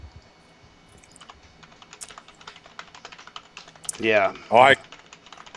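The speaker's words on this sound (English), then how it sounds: "I hear you typing like a madman. Clackety clack, clack, clack." Rapid, steady clicking of computer keys carries on throughout, close and moderately loud, with a couple of short spoken interjections breaking in near the end.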